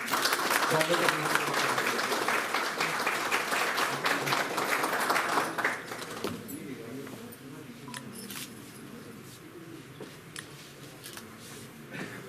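Audience applause fills a formal postal-division ceremony in Chamba as guests light the inaugural lamp, loud and dense for about six seconds before thinning into scattered claps under faint background voices.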